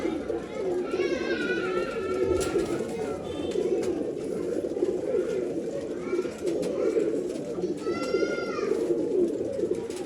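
Pigeons for sale at a Bangalore dealer coo in soft, low repeated calls throughout, close by, while someone talks over them and chirps sound in the background.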